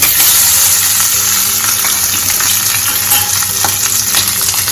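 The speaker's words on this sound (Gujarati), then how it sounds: "આ રીતના મિક્સ કરી લઈશું અને આ રીતના આપણે તેલમાં શેકાવા દેવાના છે" Potatoes with cumin and curry leaves fry in hot oil for farali aloo while a spoon stirs them, giving a loud, steady sizzle with scraping strokes and faint clinks throughout.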